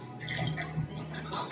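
Rectified Campari, a distilled Campari, poured into a cocktail, a brief close trickle of liquid lasting about a second.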